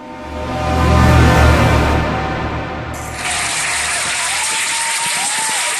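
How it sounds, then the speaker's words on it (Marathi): A packed theatre audience applauds and whistles, a dense roar of clapping that swells loudly, eases, then continues steadily alongside a bright, sustained hiss-like layer. "इथे नाट्यगृहामध्ये नुसता टाळ्यांचा आणि शिट्यांचा गडगडाट होत होता"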